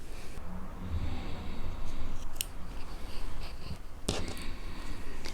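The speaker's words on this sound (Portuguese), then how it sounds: "Eu vou cortar o fio." Scissors snip through crochet yarn with a single sharp close cut, set against a steady background hiss.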